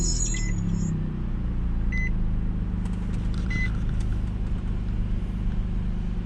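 An Infiniti car with newly installed gauges starts up: a steady low engine rumble runs throughout while a few short, high electronic beeps sound near the start, at about two seconds and again around three and a half seconds.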